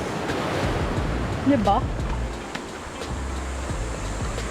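Waves washing onto an island shore at high tide, a continuous close roar of surf and wind noise, with a voice briefly speaking over it.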